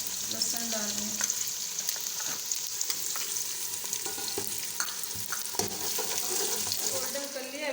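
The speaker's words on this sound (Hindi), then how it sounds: "गोल्डन हो गया प्याज में, अभी मैं लहसुन डाल रही हूँ।" Garlic sizzles in hot oil with golden fried onions for beef karahi, a steady bright frying hiss with stirring clicks and scrapes throughout, close up and with no one talking.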